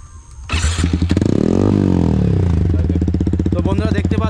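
A Yamaha MT15 motorcycle fitted with an Akrapovic full system exhaust starts up close by with a sharp crank and catch, then settles into a loud, steady, throbbing idle with a slightly uneven pulse.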